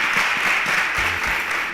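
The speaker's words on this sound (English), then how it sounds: "A round of applause for Sonia." Audience applause for Sonia at a televised quiz competition, steady dense clapping from a crowd throughout, with no voices over it.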